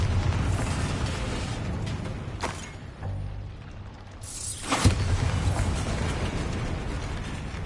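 A Bombarda spell explodes in the video game Hogwarts Legacy, with a broad, rumbling blast that swells, dips into a softer mechanical rattle, then flares again in a sharp burst near the end, loud and close throughout.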